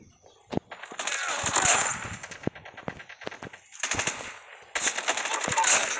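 Gunfire in a ranked Call of Duty match: two long bursts of rapid automatic fire, one after another, with sharp single shots scattered between them, loud and close, with no talk over them.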